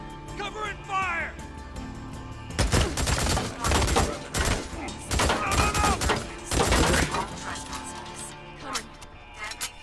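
Gunfire in the Days Gone video game: bursts of rapid shots crack in several clusters, loud and close, with a voice talking briefly at the start.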